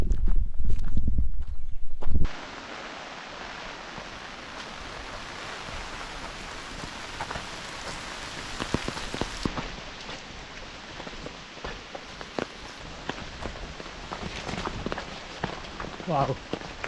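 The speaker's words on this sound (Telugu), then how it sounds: "వర్షం పడుతూ ఉంది, బట్ చాలా సూపర్గా ఉంది" Rain falling in green countryside near Dugarwadi waterfall in Nashik, Maharashtra, a soft steady patter with scattered close drip-like taps, preceded by a brief louder burst at the start; a voice speaks over it.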